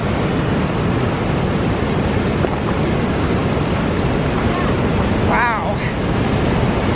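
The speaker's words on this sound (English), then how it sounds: "And waterfalls coming up." A waterfall beside a hiking trail rushes as a constant, loud, dense roar with wind buffeting the microphone, and a brief voice cuts through near the end.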